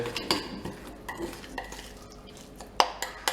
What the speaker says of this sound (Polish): Wymieszamy wszystko dokładnie.